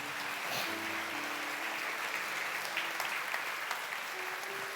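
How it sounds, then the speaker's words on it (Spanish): Church congregation applauding steadily throughout, a dense wash of clapping with a low sustained tone underneath and faint voices mixed in. "das un aplauso"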